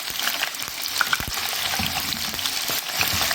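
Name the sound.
frying and flipping food in oil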